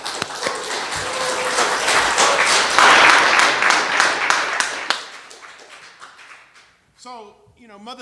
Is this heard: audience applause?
yes